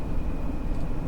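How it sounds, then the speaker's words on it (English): Distant airplane coming in to land at Gatwick Airport in a train simulator game, a faint steady jet whine over a low rumbling bed, brief and with no voices. "There's a plane coming into land."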